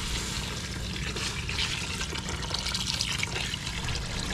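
Water pours steadily into a cooking pot, a continuous splashing gush that fills the clip at moderate loudness and close range, with no one talking.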